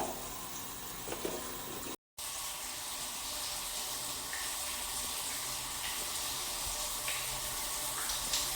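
Shower water runs in a steady, close hiss that fills the whole stretch, with one brief dropout near the start and no talk.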